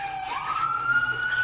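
An ambulance siren passes by outside, a single rising wail sweeping upward and holding steady, fairly faint and distant over a low background rumble, with no talking.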